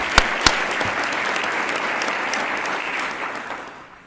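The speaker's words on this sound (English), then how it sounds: "Let's have one more round of applause for our presenting sponsors," A conference audience gives a round of applause for the presenting sponsors at a small business event, steady dense clapping that holds for several seconds and then fades out toward the end.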